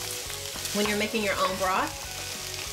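Onions and celery sauté in a pan, giving a steady soft sizzle with faint stirring underneath, while a person talks over it throughout.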